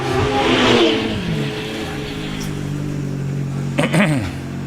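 A hillclimb race car at the British Championship Hillclimb at Prescott pulls away from the start line, its engine revving loud and close, then falling back to a steady drone with another rev burst near the end.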